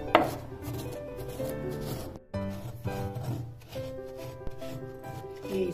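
Raw turmeric being coarsely crushed into powder in a mortar for turmeric pickle, giving repeated pounding and grinding knocks at close range over a faint steady background hum.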